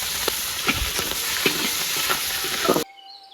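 Chilies frying in a pan in a village kitchen, with a dense, constant sizzle and crackle broken by sporadic pops and utensil scrapes until the sound abruptly cuts off near the end.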